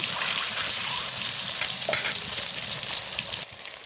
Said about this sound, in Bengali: তেলটা আমার গরম হয়ে গেছে, এবার আমি ডিমগুলো দিয়ে দেবো।